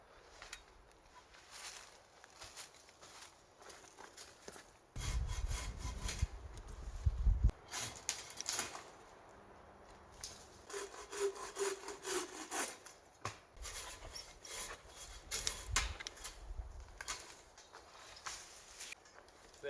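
Pruning saw with extra-large teeth cutting wood overhead on a trail in Nova Scotia: rapid rasping strokes in bursts, fairly close, with brief pauses and some rustling between.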